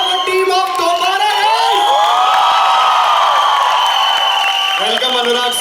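A college crowd at a film promotion event cheers and whoops loudly and continuously, with sustained shouting and some applause mixed in.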